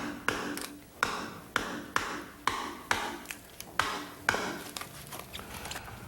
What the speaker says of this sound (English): I'll use a tool called the gauge chisel.